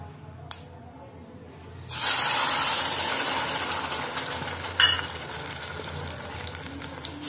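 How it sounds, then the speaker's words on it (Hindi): Spice paste dropped into hot mustard oil in a kadhai, a faint tap and then a sudden loud, sustained sizzle that slowly eases, with a brief clink partway through. "सरसों का तेल डालने के बाद हमने जो पेस्ट तैयार किया है हम इसको इसमें डाल देंगे।"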